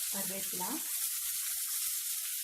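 Curry leaves dropped into leftover fish-frying oil, a brief close hiss and sizzle that starts sharply and settles into a steady crackle.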